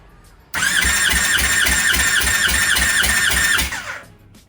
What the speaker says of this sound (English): Ignition is off and I'm just cranking.